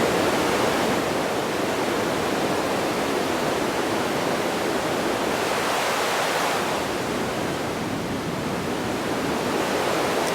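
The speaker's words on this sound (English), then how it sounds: "See how it kind of sounds like waves?" Synthesized noise shaped in Ableton Live into a wave-like wash, steady broadband hiss that swells and recedes gently, like surf rolling in, with no voices.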